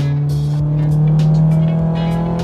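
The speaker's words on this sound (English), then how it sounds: "with a high-revving 4-cylinder engine that sounds sensational" A 1994 Nissan Silvia S14 with a high-revving four-cylinder engine drones close and loud, holding a steady engine tone that rises slightly in pitch, with a few faint knocks and rustles over it.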